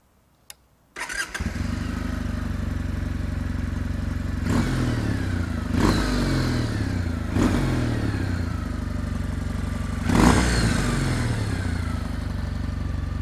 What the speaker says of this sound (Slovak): Rovno vám to aj naštartujem, pretože ďalšou takou dobrou charakteristikou tohto motora